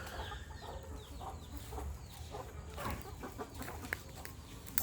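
Burmese chickens clucking in a garden pen, with soft, scattered clucks and low calls that stay moderately faint against a steady background murmur.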